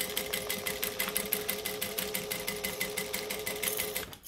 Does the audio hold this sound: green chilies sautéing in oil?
no